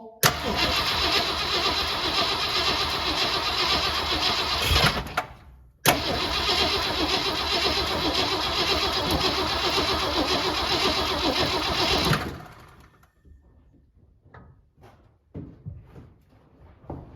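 A 1967 Ford Galaxie 500, long unused and being revived, cranks and fires, runs loudly, cuts out briefly, restarts and runs again, then dies and leaves faint clicks and handling noises.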